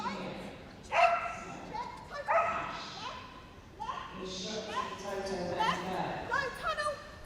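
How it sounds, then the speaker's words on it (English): An eight-year-old Cocker Spaniel barks and yips repeatedly in a show ring at Crufts, short loud barks in bursts while a commentator talks over them. "This is Toto, 8-year-old Cocker Spaniel. Always loud"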